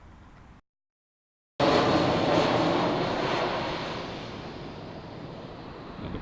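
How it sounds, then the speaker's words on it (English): A plane passes overhead near the San Diego airport, above an outdoor musical theater in Balboa Park; a loud, broad roaring wash that swells in abruptly and slowly fades over several seconds, with no talk. "Another plane."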